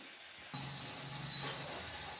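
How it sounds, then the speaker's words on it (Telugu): A pressure cooker bursts into a sharp, steady whistle with a hiss of steam. It is loud and close and keeps going after a sudden start. "కుక్కర్ కుయ్యి కొయ్యి అని సౌండ్ వినపడుతుంది"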